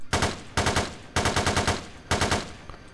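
An M4 rifle in a video game fires in four loud, close bursts of rapid automatic shots, with short pauses between them.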